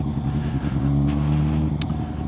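A Suzuki GSX-S750 motorcycle engine revs steadily during a ride, its loud, close, continuous drone holding strong low harmonics with slight pitch swells and no voices.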